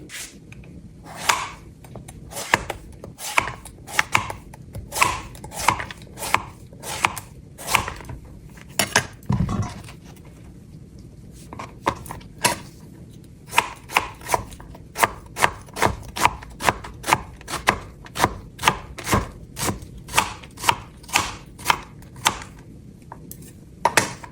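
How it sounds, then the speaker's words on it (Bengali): A knife chops zucchini on a board in a long run of sharp, evenly spaced close-up cuts. The rhythm speeds up in the second half, and no one speaks. "এখন আমি এই সবজিটি কেটে নিই"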